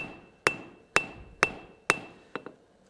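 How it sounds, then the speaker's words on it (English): A hammer strikes a flat into metal on the diamond of an anvil in steady, evenly spaced blows, each a sharp ringing clang, with a couple of lighter taps at the end. "hammer my flat into it on the diamond"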